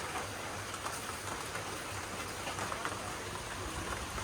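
Rain falls steadily in a village as a continuous, even hiss of drops that stays fairly faint and carries no voices.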